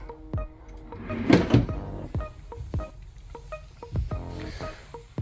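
A drawer in a hotel room slides open and shut with scraping, clicking wooden knocks and rattles, close and fairly loud.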